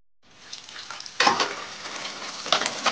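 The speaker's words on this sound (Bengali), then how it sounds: "এখন যে আমি আমড়া খাটাটা রান্না করবো তার জন্য বাগাচ্ছি।" Chili and five-spice hit hot oil for tempering a sour hog plum dish, a sharp loud sizzle that erupts about a second in and keeps crackling up close, with renewed bursts near the end.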